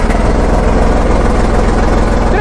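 A Hattat 240S farm tractor engine runs at a steady idle, a loud, close, low rumbling drone with a constant rhythmic throb and no speech over it.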